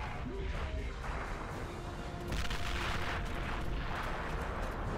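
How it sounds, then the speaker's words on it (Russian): Battle explosions and artillery fire in Cossacks 2 rumble in rolling bursts, a dense mid-distance din that swells louder halfway through, with a faint voice mixed in. "Блин, взрывы капец как усилили."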